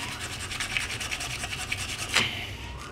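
Fine 220-grit sandpaper rubbed over a wood carving of a Hulk sculpture, making steady back-and-forth scratchy strokes at close range, with one sharper, louder scrape near the end.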